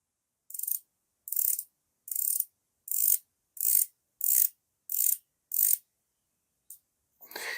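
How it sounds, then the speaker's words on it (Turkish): Eight evenly spaced ratcheting clicks from the bezel of a San Martin SN004G watch being turned, close and crisp, followed by a short pause and a couple more clicks. "Saatin bezelinin dönüş hissiyatı çok çok iyi. Onu şöyle sizlere bir dinletmek istiyorum."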